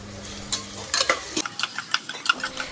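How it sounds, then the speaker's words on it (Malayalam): Sliced onions hitting hot oil in a pan for chicken biryani, a loud sizzle followed by busy scraping and stirring strokes, close and without speech. "അപ്പോൾ അതിനാവശ്യമായിട്ടുള്ള സവാള നമ്മൾ എണ്ണയിലേക്ക് ഇട്ട് കൊടുക്കാം"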